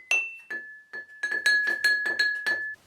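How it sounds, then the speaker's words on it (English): Sticks tap drinking glasses in an uneven series of bright clinks, each leaving a clear ringing tone, played close by. "Spread out your glasses and try tapping them with your sticks to make music."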